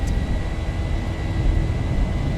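Boeing 737-800 jet engines spooling at takeoff power in the X-Plane 11 flight simulator, a steady, loud low roar with a faint high whine, continuous and alone with no talk.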